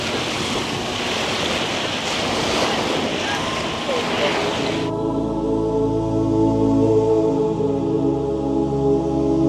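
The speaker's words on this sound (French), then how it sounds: "ce qui m'impressionne, c'est surtout les vagues qui tapent dans tous les sens" Ocean surf on an island off Malaysia churns loudly with heavy wind noise on the microphone for about five seconds, then gives way to a lower, steadier rumble like a boat motor with water washing around it.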